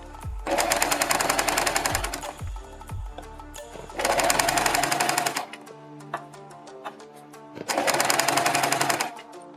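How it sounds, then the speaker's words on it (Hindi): Electric sewing machine stitching a folded kurti neck edge, running in three rapid rattling bursts of one to two seconds each, separated by short pauses, close and loud with no talking. "इसके ऊपर एक सिलाई लगा देंगे"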